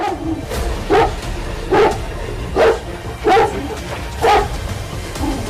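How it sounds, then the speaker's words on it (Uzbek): Caucasian shepherd dogs barking, a series of about six deep, loud barks spaced roughly a second apart over a low background hum. "Kavkaz ovcharkalari"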